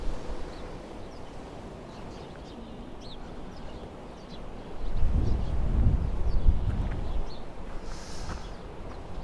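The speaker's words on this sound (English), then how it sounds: "Well, it's a bit too cool and windy here at the moment," Wind gusting over an empty beach at Portals Nous, Mallorca, on a cool day, a steady low rumble buffeting the microphone that swells louder midway, with faint birds in the distance.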